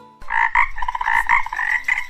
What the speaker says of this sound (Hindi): मेंढक टर टर बोले